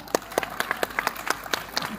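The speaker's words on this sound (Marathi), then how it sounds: "एकदा जोरदार टाळ्या" Scattered clapping from a crowd at a Home Minister paithani-sari game show event in Naidongri, a series of separate sharp claps over two seconds rather than a dense roar.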